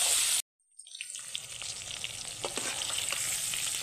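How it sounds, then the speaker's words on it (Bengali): Pieces of pointed gourd (potol) frying in a little oil, a steady close sizzle that starts after a brief silence and continues with occasional stirring clicks. "পটলটাকেও একই রকম লাল লাল করে ভেজে নিই"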